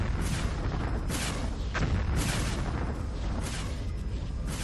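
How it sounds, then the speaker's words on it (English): Battle sounds from the video game Hostile Waters: repeated heavy booms and bursts of gunfire over a dense, rumbling low roar, with several sharp impacts spaced about a second apart. "I'm taking enemy fire."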